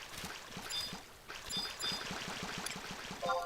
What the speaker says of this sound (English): the water's making gurgling sounds